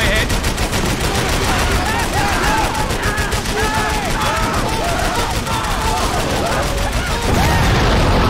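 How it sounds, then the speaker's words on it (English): Loud, continuous gunfire and whizzing bullets fill a Max Payne 3 action scene, rapid automatic bursts rattling nonstop at close range while voices call out beneath the barrage. "I can't concentrate with bullets whizzing past my head."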